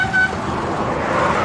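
Car passing on a wet road near a group of cyclists on a rainy ride, a steady broadband road hiss with a brief short horn toot near the start, no talk.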